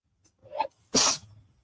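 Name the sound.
sneeze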